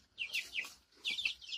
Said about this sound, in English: Nine little chickens, all happy in their new box